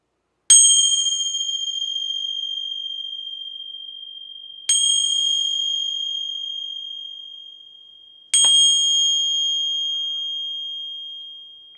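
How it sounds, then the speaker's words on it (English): Three separate strikes of a bright, high-pitched bell, each ringing out clearly and slowly fading over several seconds, spaced about four seconds apart. "Gonna ring some bells here."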